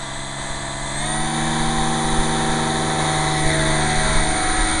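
An HK-250GT RC helicopter running in winter, its electric motor and rotor giving a steady whine that climbs in pitch and grows louder as it spools up, then holds a constant drone.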